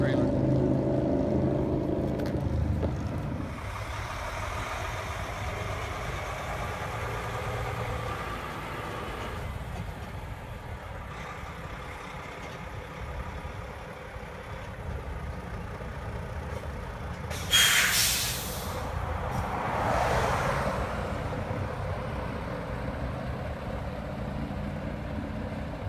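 A semi truck with a double trailer rig pulls forward to drop its trailer, a steady low engine rumble running throughout, with a brief sharp hiss of air brakes near the end and some talk mixed in.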